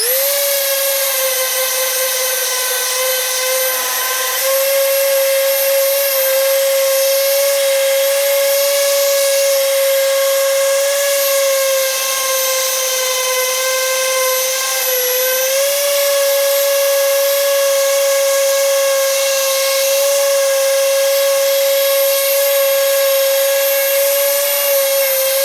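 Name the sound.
Dewalt hand sander with 150 grit sandpaper sanding paint off wood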